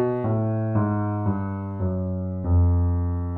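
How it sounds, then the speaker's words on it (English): Solo descending bass line of about six sustained notes, each struck in turn and ringing, moving stepwise first through the scale and then by half steps in a jazz reharmonization example. "So if I just play the bass line, it sounds like this."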